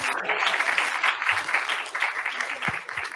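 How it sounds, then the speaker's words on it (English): An audience at a conference talk on participation in machine learning design claps in steady, dense applause that fills the room without a break. "So there was an audience applause, maybe."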